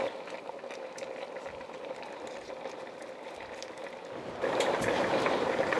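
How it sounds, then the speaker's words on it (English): Meat boiling in a pot for green okra stew, a continuous low bubbling that swells louder near the end, with no voices over it. "Our meat's boiling gorgeously."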